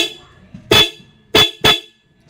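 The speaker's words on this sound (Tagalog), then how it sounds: "Tsaka yung kanyang busina." Three short car horn honks, loud and close, separated by brief pauses over a quiet background; the vehicle has faulty headlights and signal lights.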